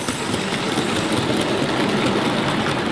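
Hattons Andrew Barclay 0-4-0ST model saddle-tank locomotive hauling a long rake of weighted wagons and a brake van, a steady rumbling mechanical whir running continuously at even level, close by, with no voices.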